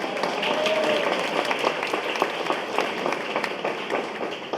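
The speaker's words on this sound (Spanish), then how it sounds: "Aplauso para los muchachos" Applause for a group of young men at a press conference, a dense, steady wash of clapping that fills the whole stretch at a strong level, with faint voices beneath it.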